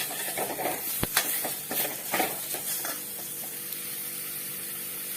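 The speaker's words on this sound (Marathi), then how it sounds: "गॅस कमी ठेवून मस्तपैकी मसाला भाजून घ्यायचा" Spice masala roasting in a pan on low heat while cooking a soybean vegetable curry, with a soft steady sizzle and scattered stirring scrapes and clicks, including one sharp tap, close and alone without voices.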